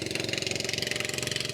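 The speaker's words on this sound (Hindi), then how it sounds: "इंजन फंस गए थे" An outboard motor on a boat caught in mud at low tide in a mangrove channel runs with a steady, rapid, close chugging pulse.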